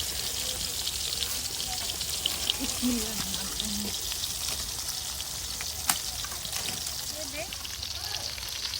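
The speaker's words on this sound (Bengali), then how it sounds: "এই যে কড়ার মধ্যে মাছ দিয়ে দিচ্ছে" Fish sizzles and crackles in a wok over a wood-fired stove, a steady hiss of hot oil with faint bubbling and a few small clinks, with voices murmuring quietly in the background.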